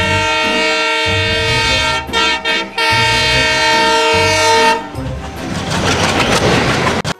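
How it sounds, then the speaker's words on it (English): A loud train horn blares in sustained tones broken by brief gaps, followed by rumbling rail and wagon noise as the train passes, close and dominant throughout. "T for train."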